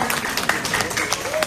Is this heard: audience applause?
yes